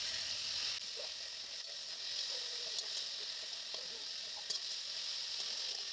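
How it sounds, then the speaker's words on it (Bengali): Tomato fries with onions in a pan, giving a steady, soft sizzle with a few light scrapes and clicks as the mix is stirred, close but low in volume. "টমেটোটা নেড়ে চেড়ে নিলাম।"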